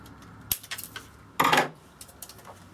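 Thin aluminium drink can sheet being cut with scissors or a rotary cutter, producing a few sharp metallic snips and crinkles, close and fairly quiet, with one louder crunching cut in the middle.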